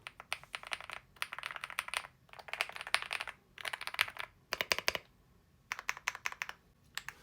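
Bursts of clacky keystrokes from a Gravastar Mercury K1 Lite mechanical keyboard, typed in quick rapid runs separated by short pauses, close and fairly quiet with no talking.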